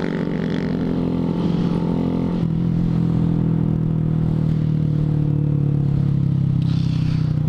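A steady engine drone from a group of 125cc motorcycles riding through Atlantic City streets holds continuously and fairly close, with a slight shift in tone partway through.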